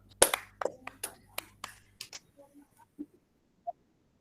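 A classroom of students claps hands in a brief burst of sharp, scattered claps that quickly thin out into a few isolated pats, with soft murmuring voices under and after the clapping.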